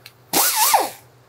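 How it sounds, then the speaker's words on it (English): Air-powered tool fitted with a hard steel carbide bit grinding out spot welds on a 1960s GMC/C10 truck cab: a sudden loud whine that bites into the metal, bends in pitch and then fades away. "we're gonna grind them out with a carbide bit like this"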